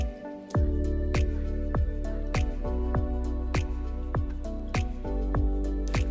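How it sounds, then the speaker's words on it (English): Drops of water from a rag soaked with water and a little dish soap fall in a slow, fairly regular series of close, distinct drips. "I just wet a rag with water and a small amount of dish soap."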